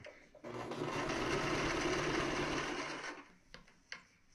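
A sewing machine runs a zigzag stitch through a steam mop pad with elastic, a close, steady whirring burst of about three seconds, followed by a few light clicks and taps.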